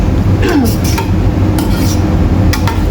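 Pots and utensils clink and scrape while two packs of pancit canton are cooked, a few sharp metallic knocks standing out over a steady low kitchen rumble, with no talking.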